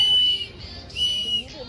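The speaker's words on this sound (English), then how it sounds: "I know parents, they're not thanking us for the whistle." A safety whistle blown in two shrill, loud blasts, the first longer and the second briefer, close by.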